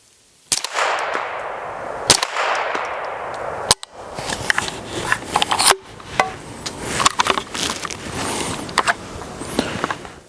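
Three subsonic pistol rounds fired from an unsuppressed M&P handgun crack out as sharp, loud reports about a second and a half apart, each followed by a brief ringing echo, with faint clattering and rustling between shots.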